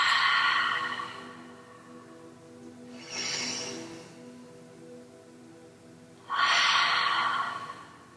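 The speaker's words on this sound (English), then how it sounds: "let's just take a few cleansing breaths in together." Slow, deep cleansing breaths during a guided meditation: a long exhale, a softer inhale, then another strong exhale, close and unhurried, with no words spoken.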